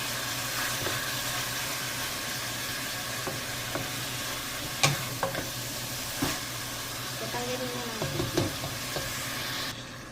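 Beef sizzles and simmers in a pot for a vegetable soup, with a steady frying hiss and a few clinks and stirring knocks from a utensil, no speech over it.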